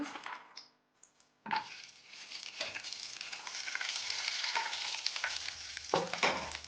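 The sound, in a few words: cashew nuts frying in oil in a pan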